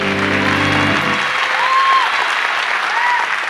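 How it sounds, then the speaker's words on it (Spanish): An audience at a live comedy contest breaks into loud, sustained applause and cheering that continues throughout, close and dense, with a brief tone cutting off early on. "con aplausos de ustedes"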